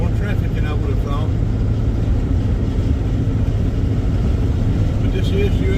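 Car cruising on highway US 78 amid traffic, a constant loud engine and tyre drone close by, with a person talking over it.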